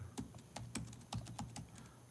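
Soft, irregular clicking of keys on a computer keyboard, heard faint and close with no talking.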